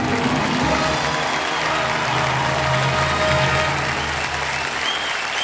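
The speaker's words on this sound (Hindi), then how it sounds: "सब लोग खड़े होकर के ताली बजा रहे हैं आपके लिए।" A television quiz-show studio audience on their feet giving a standing ovation, loud, steady, dense applause and cheering holding unbroken throughout.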